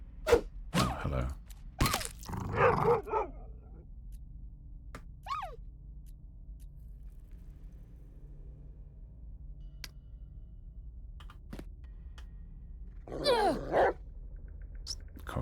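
Several dogs bark in the dungeon-crawler video game Dverghold, a close cluster of loud barks and growls at the start, then sparse faint yelps and another bark burst near the end over a quiet low drone.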